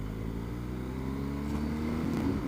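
A 2019 BMW R1250 motorcycle engine gives a steady, growly drone that holds close and loud, its pitch lifting a little toward the end, with no voices.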